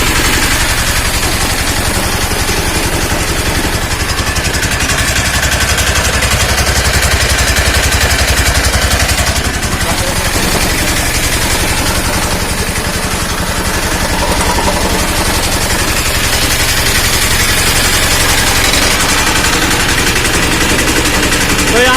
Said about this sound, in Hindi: तो यहाँ पे इंजन का स्टार्टिंग भी सही है और गाड़ी का साउंड भी सही है।